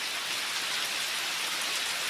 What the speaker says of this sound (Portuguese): Agora olha só que chuva.